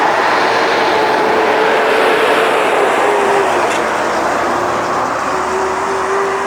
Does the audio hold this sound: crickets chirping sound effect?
no